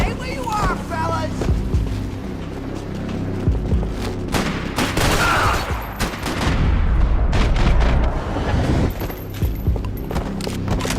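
Gunfire from the video game Max Payne 3, dense bursts of shots and booms in a loud, continuous fusillade mixed with shouting voices throughout.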